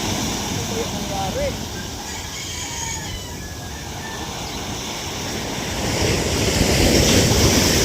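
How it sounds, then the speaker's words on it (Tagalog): Sea waves where a small boat has sunk, a steady broad roar of surf and wind buffeting the microphone that swells louder toward the end, with faint voices and a distant rooster crow. "Inaabot siya ng alon mga kadagi."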